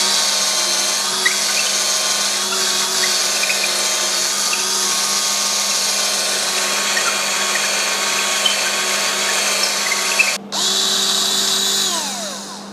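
A power drill widening a hole for a bolt while building a structure: a loud, steady high whine running almost continuously, a brief cut-out near the end, then the motor restarting and spinning down.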